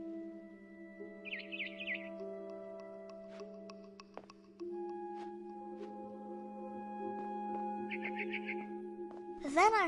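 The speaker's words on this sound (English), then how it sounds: "Then I heard chirping outside my window. It was a barn swallow going back to her nest." Barn swallow chirping in the video game What Remains of Edith Finch, two short quick bursts of twittering notes, faint over soft sustained musical tones, with a sharp sweeping sound at the end.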